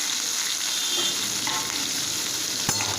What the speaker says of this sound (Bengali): পটল আর আলুটা বেশ খানিকক্ষণ ভেজে নিতে হবে।